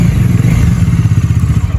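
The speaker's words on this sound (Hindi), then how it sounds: "तो एक बार स्टार्ट करते हैं डोमिनार" Bajaj Dominar 400 motorcycle, a 2021 model, starting up and settling into a loud, close, steady engine rumble with a rapid low throb and no talk over it.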